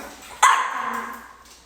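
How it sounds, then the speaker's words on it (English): A single sharp bark from a nearby dog demanding attention trails into a whiny, drawn-out vocal tone over quiet indoor background. "Such a range of barking."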